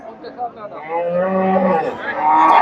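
A Friesian dairy cow at the Chandaikona cattle market lets out a long, loud, close moo, with crowd chatter underneath.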